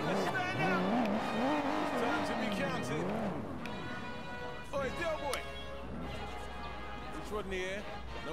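A heavily damaged car drives in the video game Sleeping Dogs, its engine droning with revs and occasional tire noise, all under continuous male speech.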